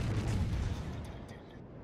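Battleship main guns firing armor-piercing shells in World of Warships, a heavy low rumbling boom that rolls on and slowly fades over a couple of seconds.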